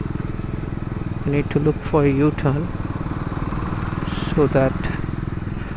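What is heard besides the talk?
Triumph Scrambler 400X motorcycle riding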